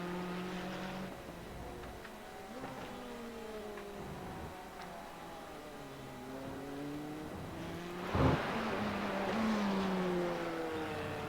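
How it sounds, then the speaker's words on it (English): A screaming Porsche race car engine in a sim racing game at Laguna Seca, with rising and falling engine whines throughout, a sharp burst around the middle, then a louder sustained pull toward the end. "That screaming Porsche driving as hard as it can"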